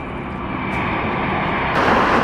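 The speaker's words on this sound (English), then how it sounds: "This Singapore Airlines Airbus A350-900 produces a mesmerizing wing condensation effect during takeoff." A Singapore Airlines Airbus A350-900 jet roars steadily on its takeoff run, a broad, loud engine rumble that swells slightly toward the end.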